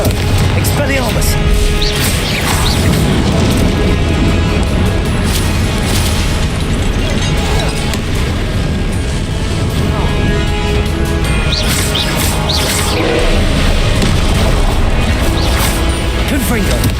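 Repeated explosive spell blasts from the Confringo spell in the Hogwarts Legacy video game, loud booming and crashing bursts recurring throughout, mixed with dense combat noise and shouted spell voices.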